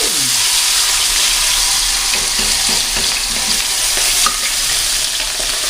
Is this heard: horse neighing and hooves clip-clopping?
no